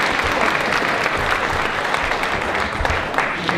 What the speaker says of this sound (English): Let's give her a big round of applause as well.